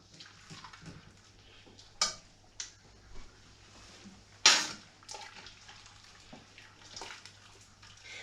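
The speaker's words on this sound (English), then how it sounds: "I'll have to transfer that liquid into this big pan because there's too much" Peapod wine liquid is poured from one vessel into a big pan, a soft steady trickle broken by a few sharp clinks and knocks of pans and utensils, close by with no talking.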